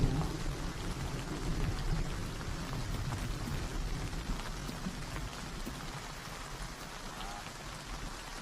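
Rain pours onto open grassland in a dense, continuous hiss of drops on the ground, with a low rumble underneath, steady and moderately loud with no speech.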